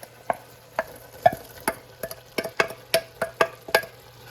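Green pepper sautéing in a pan for a potato cheese pie, heard as a series of sharp, irregular clicks and scrapes of a utensil stirring against the pan over a faint background hiss, with no talking.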